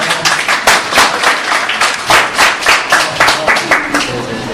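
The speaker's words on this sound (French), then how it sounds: "Il faut applaudir quand même." An audience at an NGO mission presentation in Mauritania gives close, loud applause with distinct individual claps in an uneven rhythm, steady throughout with a few voices mixed in.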